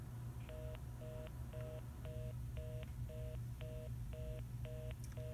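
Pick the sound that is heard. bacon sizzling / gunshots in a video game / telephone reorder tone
telephone reorder tone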